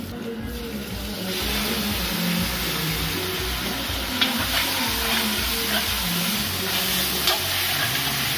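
Onion, garlic and pimentos frying in a pot at an outdoor family gathering in Trinidad, a steady close sizzle with a few stirring scrapes over a constant low rumble, no talk.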